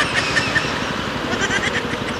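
A motorcycle on the road gives off a steady, continuous engine roar mixed with wind and road noise, loud and unbroken throughout, with no voices.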